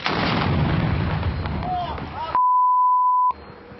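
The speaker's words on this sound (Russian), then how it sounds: "Выстрел." A loud sniper rifle gunshot booms and rolls into a long rumbling echo with voices nearby, then a steady electronic beep tone takes over.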